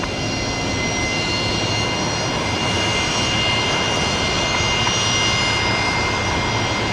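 A jet airliner at Brisbane Airport roars steadily and loudly, a sustained broadband engine rumble with a thin whine on top, close and unbroken throughout.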